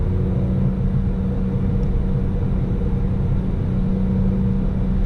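A manual BMW E46 M3 cruising over rough pavement, its steady engine drone and road rumble continuous and close, with no voices over the low, even noise.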